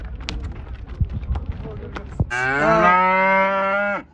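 At a Shymkent livestock market, an ox gives one loud, drawn-out moo lasting over a second. Before it, the market has a busy murmur of voices and scattered knocks.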